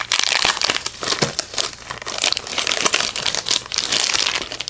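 Bakugan Mechtanium Surge packaging crinkles loudly as it is peeled open, with sticky tape coming away from the back in a busy run of crackling plastic and ripping bursts close to the mic.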